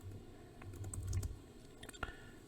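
Close computer keyboard typing while entering Racket code, a quick burst of soft key clicks that thins into a few scattered taps and a final sharper keystroke, with no voice.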